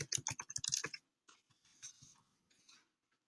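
Rapid burst of computer keyboard typing as a question is entered, crisp close clicks for about a second, then a few sparser, softer keystrokes trailing off into quiet.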